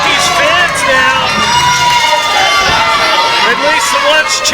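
Fans at a live wrestling event cheer and yell without pause, a loud, close crowd roar with scattered shouts and chatter mixed in.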